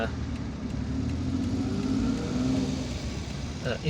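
A car driving and turning through the streets of Algiers, a steady low engine hum from inside the cabin with someone talking over it.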